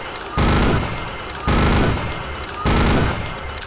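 Three short bursts of automatic gunfire in a video game, each loud and lasting about half a second, separated by brief quieter gaps.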